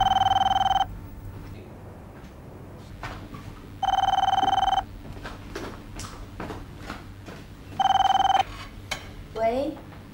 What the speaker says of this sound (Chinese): 请陈少泽陈先生接电话